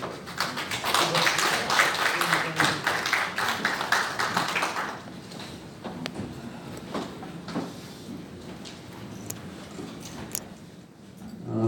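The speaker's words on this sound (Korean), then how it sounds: "뜨거운 박수 부탁드리겠습니다." At the founding assembly of a conservative political group held in the National Assembly hall in Yeouido, a conference audience applauds a congratulatory speaker. The dense clapping runs for about five seconds, then thins into scattered claps and room noise.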